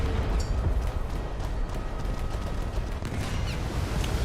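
Naval gunfire from a British cruiser in a warship battle game, dense booming rumble with sharp shot transients throughout, loud and continuous, with no talk.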